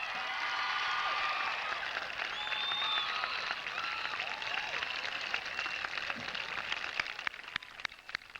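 Audience at a 1994 high school graduation ceremony applauding in a broad, even patter that gradually thins toward scattered individual claps at the end, with faint crowd murmur underneath.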